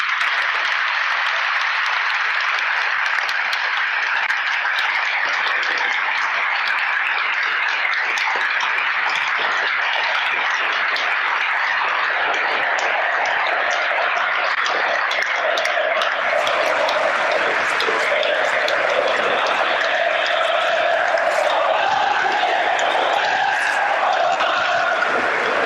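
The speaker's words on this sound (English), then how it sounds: "A minute's applause there for the team." Sustained applause from a large football crowd at a Liverpool versus Everton FA Cup match, a steady roar of clapping that swells slightly louder toward the end, with no talk over it.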